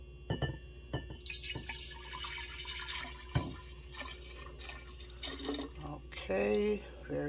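Liquid pours steadily into a brewing vessel while a batch of kombucha jun is prepared. The splashy trickle runs close by for several seconds, with someone talking over parts of it.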